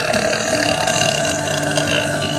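A long, loud burp from a streamer on a TikTok live stream, rumbling steadily for over two seconds with no pause.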